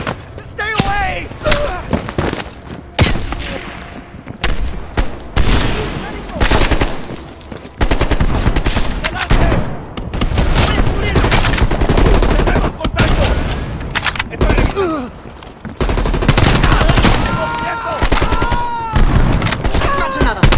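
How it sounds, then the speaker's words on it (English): Dense enemy gunfire in a Call of Duty: Black Ops Cold War firefight: rapid automatic bursts and scattered single shots rattle almost nonstop at close range, with shouted voices cutting through the shooting. "They're shooting at us!"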